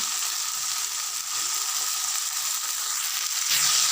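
Boiled radish fries in hot spiced oil, a loud, bright, steady sizzle that swells briefly toward the end as it hits the pan.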